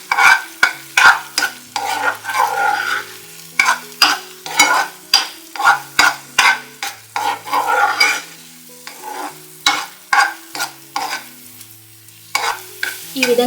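Semolina with food colour is stirred briskly for rava kesari, a quick rhythmic series of scraping strokes against the pan, loud and close, with short pauses between bursts.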